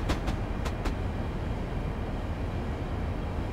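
A train runs in Train Simulator 2014, giving a steady, dense rumble of rolling wheels and engine noise, with a few brief clicks near the start and no talk.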